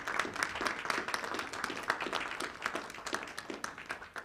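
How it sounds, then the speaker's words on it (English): A congregation applauds at a White Stone spiritual ceremony, with steady, dense hand clapping that fills the room at an even level throughout. "You can applaud yourselves."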